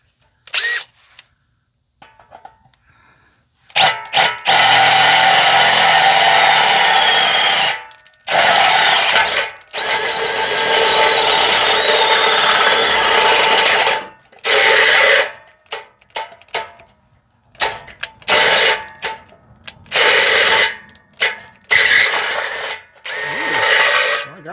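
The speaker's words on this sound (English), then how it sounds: "What is going on with this drill all of a sudden?" A power drill, used for a makeshift repair on a 4x4 Astro van, runs loud and close in long whirring bursts broken by abrupt stops and short stuttering pulses, with no talking.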